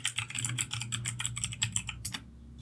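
Rapid keystrokes on a computer keyboard while configuring Sunshine game-streaming software: a close, steady run of clicky taps with a brief pause before a final burst.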